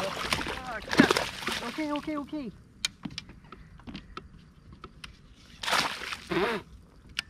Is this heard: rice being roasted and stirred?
no